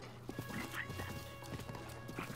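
Horse hooves clip-clop at a trot in the video game Breath of the Wild, a quick run of light, close hoofbeats over a steady game soundtrack with no talk.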